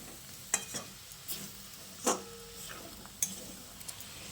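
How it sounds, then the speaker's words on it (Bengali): Spiced flat beans being stir-fried in a pan with a little water over low to medium flame, making a soft sizzle under a few sharp spoon clinks and scrapes. "তারপর আবারও খুব ভালো করে কষিয়ে নিচ্ছি।"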